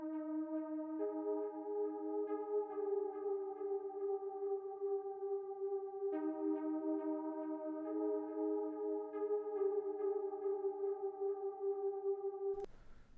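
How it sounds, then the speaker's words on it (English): A sustained synth pad chord from the Distant Passion preset in Electra X plays in a drill beat, holding layered tones that shift once midway and restart, with a rhythmic gate bounce before a short burst at the end. "And I also have this pad here in Electro X."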